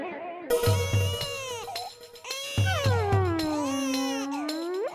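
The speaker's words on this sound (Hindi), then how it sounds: "कमाल है, किसके घर पे ये बच्चा रो रहा है?" A small baby crying in bursts of high, wavering wails with short gaps between them, fairly loud and close, in a household scene.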